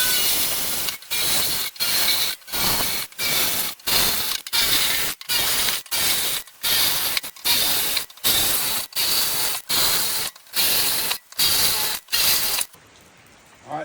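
A drill bores quarter-inch holes through a steel plate on a truck mailbox sign build, its grinding bursts repeating about every half second, loud and close with sharp breaks between, no talk.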